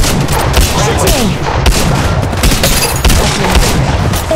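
Gunfire in the mobile battle royale game Apex Legends Mobile, with dense, continuous rapid shots and booming impacts filling the whole stretch, loud and close, with faint game voice lines underneath.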